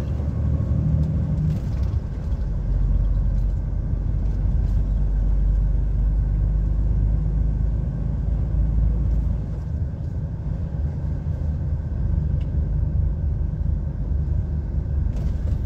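A heavy goods lorry engine drones steadily from inside the cab on a rural road in Cumbria, a loud continuous low rumble that rises under acceleration and shifts briefly as it changes down a gear.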